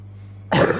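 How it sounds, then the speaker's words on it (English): A single sharp, close cough breaks a quiet background hum, coming from a commentator calling a MotoGP 23 online race session. "Excuse me for my coughing."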